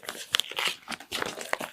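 A hype sticker is peeled and torn from a vinyl record's plastic wrap, producing faint, close crinkles and sharp little crackles in short irregular bursts.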